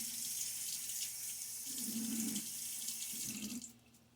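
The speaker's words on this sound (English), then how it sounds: "So, splash of water on my face." Water from a bathroom sink splashed onto a face before shaving, a soft running, hissing wash with two brief louder splashes close by, then quieting at the end.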